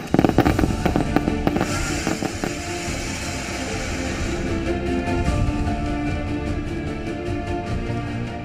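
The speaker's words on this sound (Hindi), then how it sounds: "श्रमवीरों के गांव में जमकर आतिशबाजी हुई" Fireworks crackle and pop in rapid bursts during a village celebration, dense at first and then thinning into scattered distant bangs over a steady background rumble.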